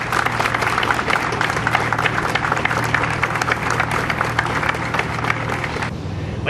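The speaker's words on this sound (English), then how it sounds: "ask all of us here for a round of applause for all of you good folks who are standing here in duty and service" A crowd at a firefighter memorial applauds firefighters standing on duty, steady outdoor clapping over a low engine hum that continues for about six seconds before tapering off.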